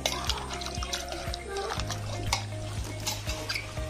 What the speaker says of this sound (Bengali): কাঁচা কুমড়ো খুব আঠা, ওই জন্য আমি একবার দুবার ধুয়ে নেব।